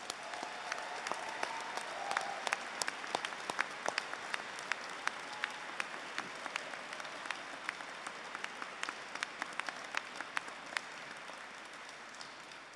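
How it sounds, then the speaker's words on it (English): A large audience at a university graduation ceremony applauds the staff, sustained, fairly distant clapping in a big hall with sharp individual claps standing out over a soft wash of sound. "I would like you to applaud their contribution to your degree"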